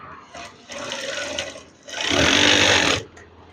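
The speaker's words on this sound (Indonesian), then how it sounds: "Ini lipat dan jahit saja secara perlahan." A sewing machine stitching curtain fabric runs in two close, steady bursts, the second longer and louder, with short pauses around them and no talk.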